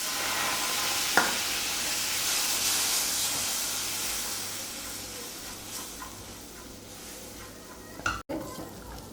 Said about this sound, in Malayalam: നന്നായിട്ട് ഇളക്കിയെടുക്കാം